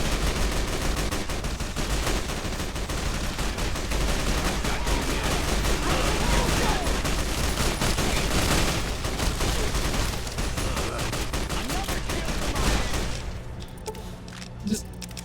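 Dense, continuous gunfire from a video game fight, loud overlapping shots and bursts rolling on without a break before easing off near the end.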